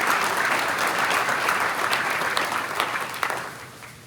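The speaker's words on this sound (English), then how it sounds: "Big applause for the offense for the Auburn County team." Sustained applause from an audience at a Marion County high school football awards event, honoring an offensive team; steady dense clapping that fades slightly toward the end.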